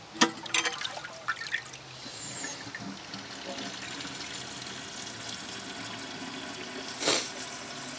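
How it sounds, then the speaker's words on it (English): A clogged lowboy toilet hooked up to water is flushed, giving a few sharp knocks at the start, then a steady rush of water refilling the bowl with a brief louder surge near the end. "So we're going to flush it"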